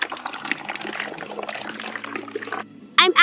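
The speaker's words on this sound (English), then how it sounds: "I'm pouring this blue slime," Blue slime is poured into a miniature toy pool in a steady, wet, glugging stream, ending in a short sharp clatter.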